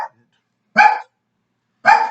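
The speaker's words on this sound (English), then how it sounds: "sorry about the dog barking in the back." A dog barks twice in the background, two sharp separate barks about a second apart with silence between them.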